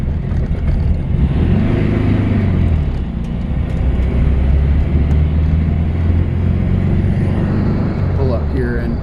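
Interior drone of a 1963 VW Beetle, all original, driving along with a steady low engine hum and road rumble throughout, loud and continuous, with someone talking over it.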